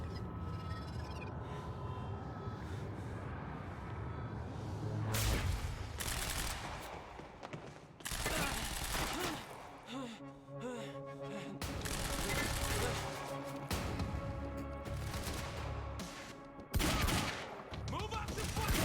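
Gunfire in the video game Quantum Break sounds as repeated loud bursts of heavy shots, several volleys over the span separated by quieter stretches of game noise and impacts.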